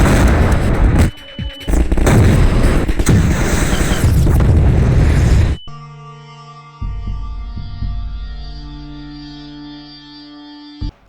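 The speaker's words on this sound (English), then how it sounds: "We need artillery on this location." Artillery strikes in the video game Half-Life 2 produce about five seconds of loud, roaring blast noise with a brief gap, then give way to a quieter sustained musical drone with a few low thuds.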